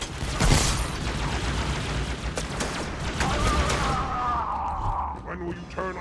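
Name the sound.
gunfire in the video game Halo 2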